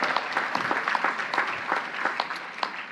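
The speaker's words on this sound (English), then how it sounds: "Let's give them a big round of applause" A college commencement crowd applauds family members, a lively patter of distinct individual claps forming a steady round of applause that stays fairly close and even, with no talk over it.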